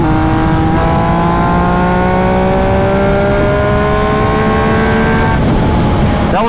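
An MV Agusta Brutale 800 RC motorcycle at wide open throttle, a loud, close engine howl climbing steadily in pitch through the gears with short shift breaks, alone without talk.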